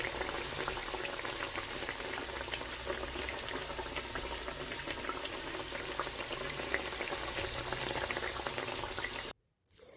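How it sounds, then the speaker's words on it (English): Ugandan pancake dough frying in boiling cooking oil, a dense steady sizzle and crackle of bubbling oil holding close and constant for about nine seconds before cutting off abruptly. "After 2 minutes of boiling your cooking oil, add in your pancake-sized dough and let it fry."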